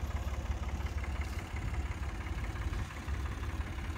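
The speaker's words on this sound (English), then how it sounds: "So this little tractor, it straddles the rows really nice." A Ford 4000 tractor engine idling in a cornfield, a steady low diesel rumble with an even throb, continuous and fairly quiet with no talk over it.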